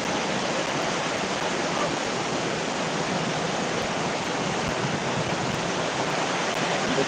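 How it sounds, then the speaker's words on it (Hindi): Heavy rain falls in a dense, constant roar, loud and close, with wind in the setting and no break for the whole stretch. "क्या जबरदस्त बारिश हो रहा है यहाँ पर।"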